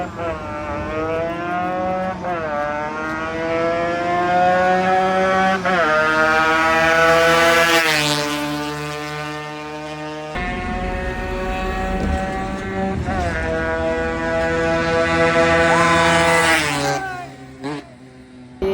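A Yamaha RX 135 and a KTM Duke 250 race in a drag run, loud engines revving hard through rising gear pulls, shifting, then climbing again close by.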